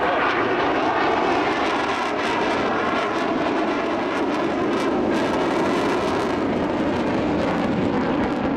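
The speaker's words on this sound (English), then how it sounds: "You'll notice as the Hornet approaches from your right that the gear will be down, the tail hook will be extended, the flaps will be down." An F/A-18 Hornet jet on approach at an air show with gear, flaps and tail hook down, a loud continuous broadband engine roar that holds steady throughout, with no talk over it.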